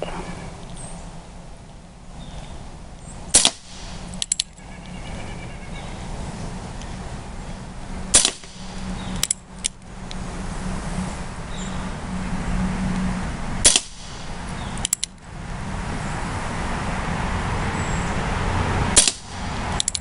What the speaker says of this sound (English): Alright, we're shooting at the left target, Hornady Black Diamond BBs.